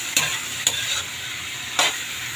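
A kilo of squid cooks quickly in a pan for adobo, with a steady close sizzle and three brief, sharp stirring scrapes, and no talking.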